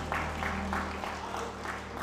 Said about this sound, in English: Let's clap our hands for God's blessing over our lives.